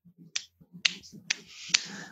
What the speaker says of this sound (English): she just sort of gives like a limp clap